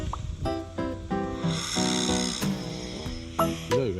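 Several people snore while asleep during a trip in Korea, giving rough, buzzy rasping breaths in uneven bursts that overlap, with close, loud snorts and gurgling tones.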